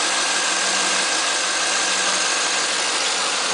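A 2010 Chevrolet Camaro fitted with a Vararam intake idles cold just after start-up, a steady, loud, close engine drone with a constant hum and no talking.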